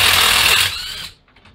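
Harbor Freight 18-volt cordless 1/4-inch hex impact driver working on cylinder head bolts, a loud rattling hammer-whir that cuts off and spins down to near silence.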